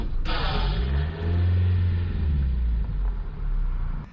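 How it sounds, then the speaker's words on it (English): A Mazda Miata fitted with nitrous idles at a stop, a deep low engine rumble that swells and rises in pitch after a brief spritz, steady and close up. "When I was sitting at a stop, it like spritzed the nitrous for a second and the idle raised up."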